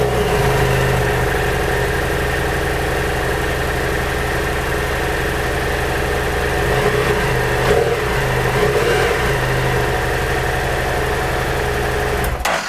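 BMW F650GS Twin motorcycle engine running after starting, a loud, steady idle with constant rumble and faint mechanical vibration throughout, no talking.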